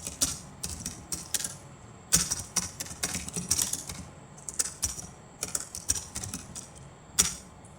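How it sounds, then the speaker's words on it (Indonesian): Fingers typing on a computer keyboard while working in MS Word, bursts of crisp key clicks with brief pauses between runs, close and clear with no talk. "Kita ketikkan."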